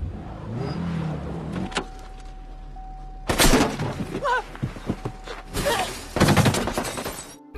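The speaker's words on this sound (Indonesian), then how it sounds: "Sebuah tembakan tepat mengenai Antoine" A gunshot in a film scene, heard as a sharp loud crack that breaks a tense near-silence, followed by a few more heavy bursts and thuds, with no talk.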